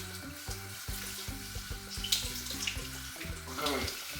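Water from a gentle shower setting runs over a potted bird of paradise plant in a bathtub, a soft steady splashing patter under a faint background of low rhythmic music.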